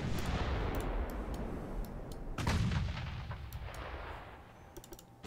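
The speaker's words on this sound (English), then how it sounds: "They're firing torpedoes at me again" Warships fire in the naval game Ultimate Admiral Dreadnoughts during a French 1930 campaign, with a dense rumbling barrage, a heavier boom midway and scattered sharp ticks fading over the stretch.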